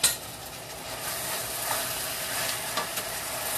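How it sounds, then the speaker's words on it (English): A spoon stirs browning meat in a hot pan for baked ziti, giving a steady close sizzle with soft scraping and clinking strokes throughout and no voices. "let me get a spoon here and stir this."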